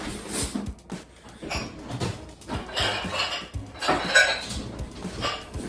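A wooden spoon scrapes and clatters around the inside of a pot in irregular strokes, close by, with light kitchen clinks mixed in.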